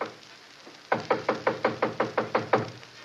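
A radio-drama knock on a living room door: about ten sharp, evenly spaced raps in quick succession, close and clear against a faint hiss.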